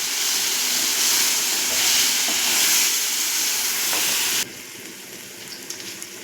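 Elephant-yam manchurian with tomato sauce sautés on a low simmer, a loud hissing sizzle that drops abruptly to a quieter bubbling with faint scraping near the end.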